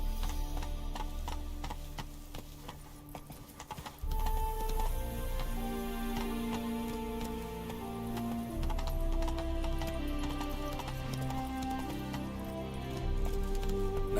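Horse galloping in The Witcher 3, rhythmic hoofbeats running steadily under loud game music throughout.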